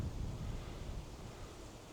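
Wind blowing across a hilltop nature trail near Moosic, Pennsylvania, a low rumbling gusty roar buffeting the microphone, steady and close with no other sound.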